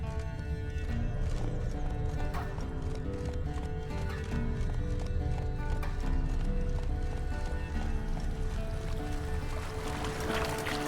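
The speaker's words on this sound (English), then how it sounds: "Whoa there, Roach." Hooves clip-clop rhythmically as the horse Roach gallops in The Witcher 3, loud and continuous beneath game music, with an occasional whinny-like sound.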